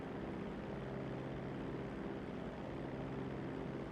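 Steady propeller airplane engine drone during a takeoff in GTA 5, a constant dense roar that holds at the same level throughout, with no talking.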